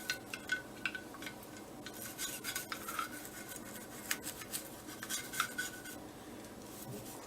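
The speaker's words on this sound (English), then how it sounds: "maybe some light brushing on the inside here" Light brushing scrubs gunk from inside the crevices of a Tristar 12 gauge semi-auto shotgun, a quiet close-up run of short rasping strokes in an irregular rhythm.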